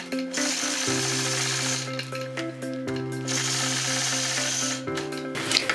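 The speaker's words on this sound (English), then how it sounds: "I'll line that up here with the edge and then stitch all the way around the outside of this star" A sewing machine runs continuously while quilting around a star shape along a quilting ruler, its steady motor hum pausing briefly twice before resuming, close and loud.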